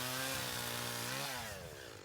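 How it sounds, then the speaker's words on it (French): A chainsaw on a Christmas tree farm in Briec, Brittany, runs at a high steady whine, then its pitch dips and drops away as it bites into a fir trunk, loud and close with no talk. "mais celui de sa tronçonneuse."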